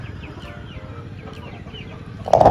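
A chicken clucks steadily nearby, low and repetitive, ending in a louder abrupt squawk.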